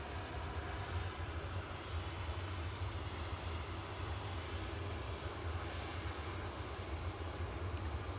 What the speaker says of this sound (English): 737-800s lined up on 23 left for departure.